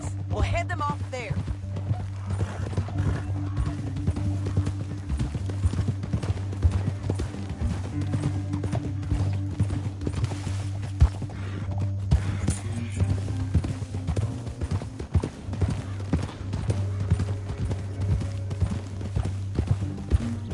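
Steady clip-clop of horse hooves plodding along in the video game Red Dead Redemption II, under a constant low hum and music, with a voice speaking briefly.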